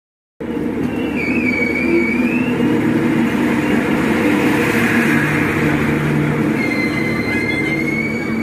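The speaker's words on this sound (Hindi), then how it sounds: "फिलहाल हमारी ट्रेन डिपाचर ले रही है बरौनी जंक्शन से" A crowded passenger train pulls out of Barauni Junction with a steady, loud rolling rumble of wheels on track, faint squeals rising and falling over the drone, heard from inside with no talking.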